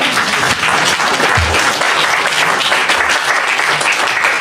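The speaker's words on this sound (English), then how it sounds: "If anybody feels like applauding," A crowd gives loud, even applause that continues without a break for a few seconds, with a low thump or two underneath.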